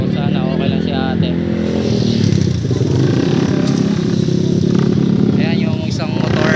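A motorcycle engine drones loudly on a road at the scene of a crash involving a Yamaha Aerox and a Suzuki Burgman, steady and close, with someone talking over it throughout.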